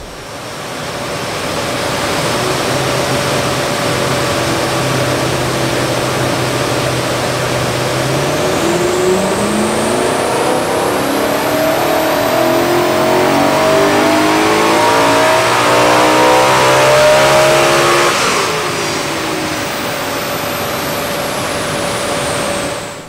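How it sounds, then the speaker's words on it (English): A BMW M3 E9X with a carbon air intake runs on a dyno: a loud, close engine climbs steadily through the revs in one long pull, pitch rising to a peak before easing off, with roaring rolling noise throughout. "it'll be interesting to see what power we get on the dyno now."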